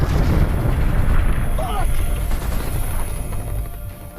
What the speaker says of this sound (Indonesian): lalu jatuh dan meledak.